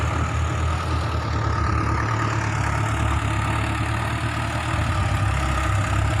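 A Ford 6600 tractor's diesel engine idles steadily up close, a loud, continuous low rumble with a rattling mechanical edge and no talking.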